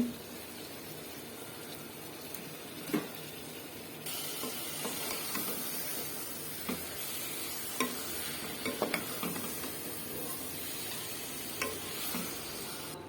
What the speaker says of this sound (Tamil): இப்போது இது கூடவே நம்ம சிக்கனையும் ஆட் பண்ணி ஒரு 2 நிமிஷம் நல்லா வதக்கி விடலாம் சிக்கனை